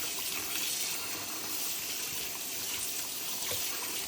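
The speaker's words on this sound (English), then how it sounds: "Remove the top, open them up, and wash away the seeds" Tap water runs steadily over halved poblano peppers, rinsing out the seeds, a continuous close splashing trickle with no voices.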